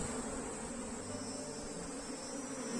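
Honeybees buzz steadily over a brood frame during hive inspection, a dense continuous hum close by with no talking.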